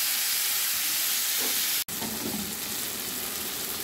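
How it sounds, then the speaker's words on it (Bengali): Chopped onions and tomato fry in a pan, a loud, steady broadband sizzle that cuts out for an instant and then resumes. "এগুলো ভেজে নেব।"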